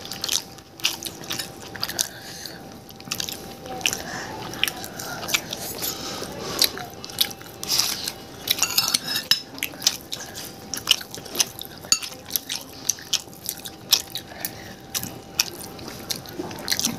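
Someone eats mixed noodles with chicken, papaya and egg, with close, steady chewing, slurping and crunchy bites repeating throughout at moderate volume.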